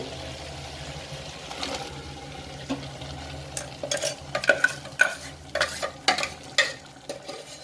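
Ground masala paste fries and is stirred in a pan for veg pulao: a low sizzle at first, then close, loud, repeated scraping strokes of the spoon in quick bursts.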